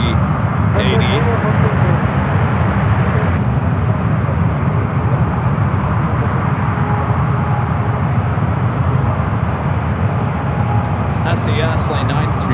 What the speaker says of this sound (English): SAS flight 936 heading back to Copenhagen at A350-900.